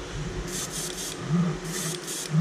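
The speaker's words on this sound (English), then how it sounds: "that's spraying good, and we're going to go real light, not a lot of pressure here" An airbrush sprays paint at light, low pressure, giving two soft bursts of airy hiss that rise and fall over a faint low background hum.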